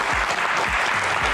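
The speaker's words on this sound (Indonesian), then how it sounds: "tepuk tangan sekali lagi" Audience applause at an Indonesian panel event with a retired army general, a steady crowd of clapping hands over low thumping bumps, loud and continuous throughout.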